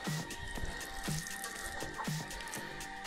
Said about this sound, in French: on met l'arrosoir complet sur la ligne